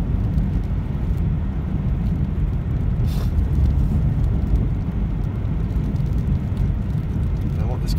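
A car passes on a snowy mountain road near Big Bear Lake at night in blowing snow, giving a steady, loud engine and tire rumble throughout, heard from inside another vehicle.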